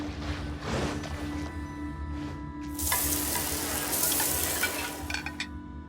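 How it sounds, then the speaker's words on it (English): Fish grilling over an open fire in Genshin Impact gives off a steady frying sizzle that swells partway through, with faint stirring and light clinks over a low hum. "Let's head back to land and grill them."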